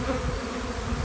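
Bees swarm around disturbed beehives during an inspection, a dense continuous close buzzing drone at moderate level with no voices.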